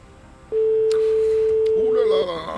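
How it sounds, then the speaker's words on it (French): A second telephone ring on a call during a live TV prize draw in Tahiti: one sustained, even ring tone of about a second and a half, with a voice starting to talk over its end. "Deuxième sonnerie."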